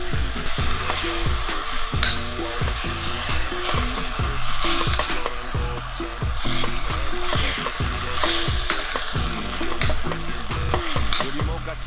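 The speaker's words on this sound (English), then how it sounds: "Then add your kimchi, stir fry for 3 minutes and let all the flavor come out." Pork and kimchi sizzle loudly in a hot pan while being stir-fried, a steady close crackle broken by the regular scrape and clatter of a utensil stirring.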